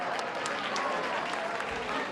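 An audience at a school-education event claps in a steady, dense burst of applause lasting a couple of seconds, moderately distant and without breaks.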